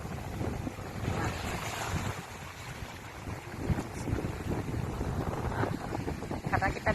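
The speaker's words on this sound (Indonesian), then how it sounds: "suara deburan empasan ombak ini sangat bising di telinga" Strong gusts buffet the microphone at a Singapore beach at low tide while waves crash and surge nearby, a loud continuous roar with heavier swells, and a person speaks over it at times.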